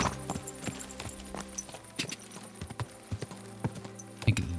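Horse hooves clip-clopping on a road while riding in the video game Kingdom Come Deliverance 2, a steady run of quick, fairly quiet hoofbeats over a low background hum.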